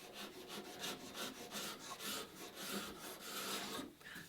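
A sharpened painter's scraper rasps steadily along the wooden sheer of a Catalina Wherry boat, giving a continuous run of rough, rhythmic strokes that sound close and moderately loud, with no talking.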